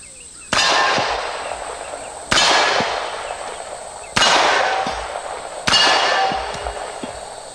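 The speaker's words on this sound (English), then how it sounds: "so let's do a little shooting" Small handguns fired outdoors at targets in hot, humid weather: four sharp shots spaced a couple of seconds apart, each followed by a faint metallic ring from the hit target.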